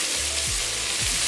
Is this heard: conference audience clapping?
no